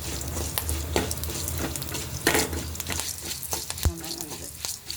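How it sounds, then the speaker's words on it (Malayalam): Mustard seeds, urad dal and lentils fry in hot oil for a sweet potato curry, giving a steady close sizzle and crackle with occasional sharper pops and spoon scrapes. "ഉഴുന്നും പരിപ്പിട്ട് കടുക് വറുക്കുമ്പോൾ നല്ല കുറച്ചുകൂടി ടേസ്റ്റ് വരും."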